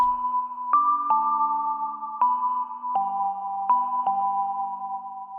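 A clean, bell-like "SY Remember" synth bell preset plays a slow sequence of sustained notes, each with a soft chime attack, alone and dry with no effects.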